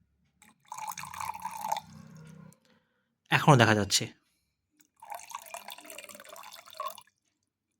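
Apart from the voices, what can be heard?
water being slowly poured over a coin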